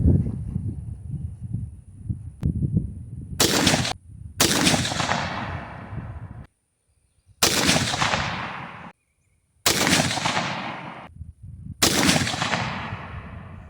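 Bolt-action rifle on a BCA bolt-action upper fired with Ramshot Exterminator powder loads: several loud, sharp reports spaced a few seconds apart, each with a ringing tail, separated by mechanical handling noise and brief silences.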